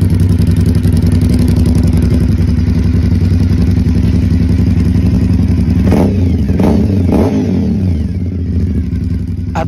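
Zhongzhen Cyclone RA9 motorcycle with an Aprilia-based 896cc V-twin runs loud and close, a steady throbbing idle broken by several sharp throttle blips near the end, with no talking over it.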